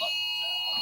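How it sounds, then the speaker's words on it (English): Earthquake alarm sounding, a steady electronic buzzing tone with a sharp, sustained pitch, held at moderate level throughout. "See, that's the earthquake alarm."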